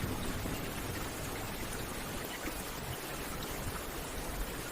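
Gentle, steady rain falls as an even, soft hiss that fills the space, with no pauses and no distinct drops or thunder standing out.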